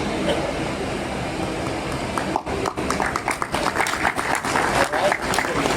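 An audience claps as a guest is welcomed onto the stage at an investor awareness event in Varanasi, a loud, close rush of hands that swells and turns into busier, uneven clapping, with voices mixed in.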